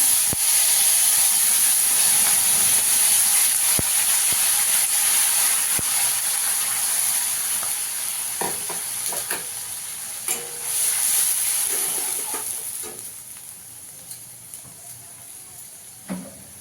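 A paste of tomato, green chilli and ginger hits hot oil with a loud, steady sizzle and hiss that slowly eases off, broken by scattered clicks and scrapes of stirring near the end.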